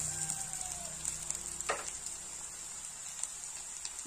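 Onion frying in hot oil as a ginger-garlic paste goes in for a Bengali potato crab curry, giving a steady faint sizzle with a few soft crackles and spits, no talk over it.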